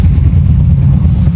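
A tourist motorboat on a canal near the Bhimruli floating guava market gives a loud, steady low engine rumble that stays close and even throughout, with no voices.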